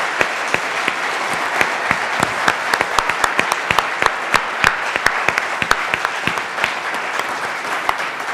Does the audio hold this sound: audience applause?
yes